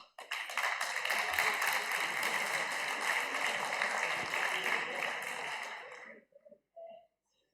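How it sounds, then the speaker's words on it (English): Steady applause from a crowd, dense clapping sustained for about six seconds before fading out, followed by a brief voice. "Once more, applause."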